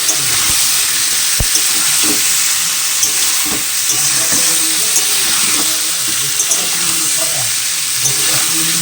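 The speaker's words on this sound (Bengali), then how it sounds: "এখানে আলু পনির টমেটো মশলা একসঙ্গে ভালো করে করছি" Potato, paneer, tomato and spices stirred together in a hot pan with cumin seeds and bay leaf, giving steady sizzling and frying with intermittent scraping strokes of a utensil, close and continuous throughout.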